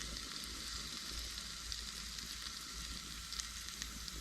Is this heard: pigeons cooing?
no